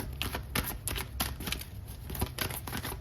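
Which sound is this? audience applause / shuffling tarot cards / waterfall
shuffling tarot cards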